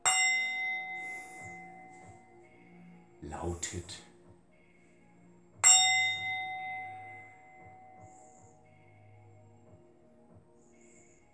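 A bell struck twice during an oracle card reading, each clear metallic strike ringing out with a long, slowly fading tone, separated by a few seconds of soft speech and a brief rustle.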